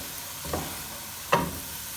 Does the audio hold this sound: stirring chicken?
yes